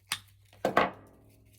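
Flower stems snipped at an angle while building a spring floral arrangement, three crisp close cuts, one alone and two in quick succession, with quiet between and no talk.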